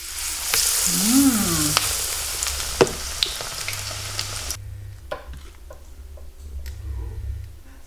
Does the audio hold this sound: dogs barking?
no